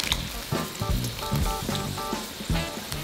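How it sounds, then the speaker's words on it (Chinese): Tofu cubes going into boiling Sichuan chili broth for mapo tofu, a close, loud bubbling sizzle with repeated splashy bursts and gentle stirring, no voices. "汤汁煮沸后，让豆腐下锅"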